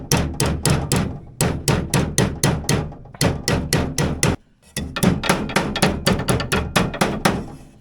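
Rapid, loud hammer blows rolling the edge of a vintage Polaris snowmobile dash panel, striking in steady bursts of even metallic raps with one short pause midway.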